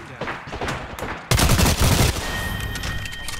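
Gunfire rattles in Apex Legends, a dense burst of rapid shots that suddenly grows louder and more intense partway through, with faint voice chatter mixed in.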